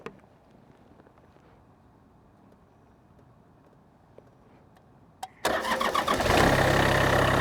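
A cold diesel motorcycle is key-started after weeks unused: a quiet stretch with faint clicks, then the engine catches abruptly and runs loud and steady, a broad rumbling idle close by with no talk.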